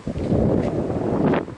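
Steady wind buffeting the microphone beside a 2016 Audi TT, a dense low rumble that fills the whole moment and swells toward the end, with no voices.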